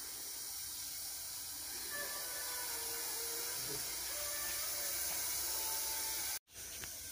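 A Russell's viper hisses continuously, a loud, broad sound like a pressure-cooker whistle or escaping steam, close by for several seconds, cutting out briefly near the end.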